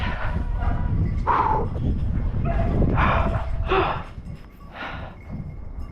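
A hunting dog on a driven boar hunt gives several sharp barks and yips in a cluster, fairly close, with some whimpering noises mixed in.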